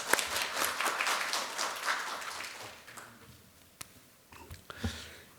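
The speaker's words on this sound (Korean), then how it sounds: "큰 박수 부탁드리겠습니다." An audience at a social economy forum launch breaks into applause, a dense burst of clapping that fades over a few seconds, leaving scattered claps and low murmuring.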